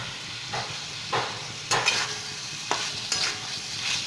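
A spoon scrapes and stirs through papaya frying with poppy seeds in a pan, with soft periodic scraping strokes over a steady frying hiss.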